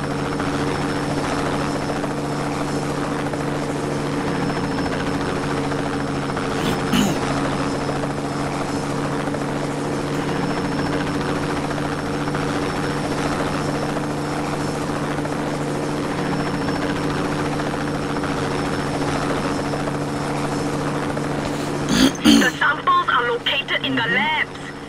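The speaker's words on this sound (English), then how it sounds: "Helicopter on them first." A helicopter in the Just Cause 2 video game drones with a steady, loud rotor hum throughout, with brief clicks and a short burst of noise near the end.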